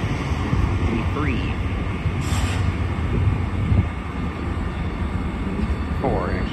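MARC commuter train arriving with its cab car leading at an electrified station, a steady low rumble and rolling noise with brief squeals, while people talk nearby.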